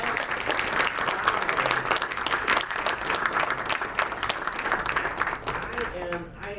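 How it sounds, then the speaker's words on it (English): A crowd gives a big round of applause for students at a school district event, dense steady clapping throughout that fades slightly toward the end. "Let's give them a big round of applause."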